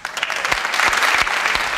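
Studio audience on a 1998 Turkish TV show applauding, a loud, close wash of dense clapping with a few sharper individual claps standing out.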